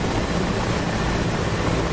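Chopper rotor drone in a flight-sim game, a steady dense whir with no talk over it throughout.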